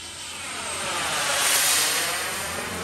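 A Freewing Zeus 45NT RC turbine jet on its maiden flight passes overhead, a loud steady turbine whine and rushing roar swelling as it nears and easing slightly as it moves on, with no voices.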